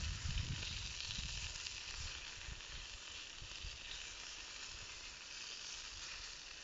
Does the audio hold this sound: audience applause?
no